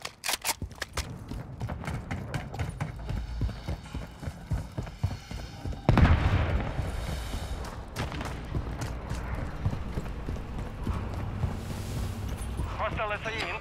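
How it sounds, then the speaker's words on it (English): A grenade detonates during a Call of Duty: Modern Warfare III hardcore team deathmatch. One loud, deep boom stands out partway through and fades into a rumbling tail amid constant gunfire and footsteps. "Grenade out!"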